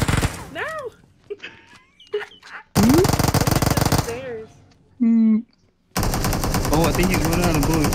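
Automatic gunfire in PUBG Mobile comes in two loud, sustained rattling bursts, separated by gaps where players talk and other short game sounds are heard.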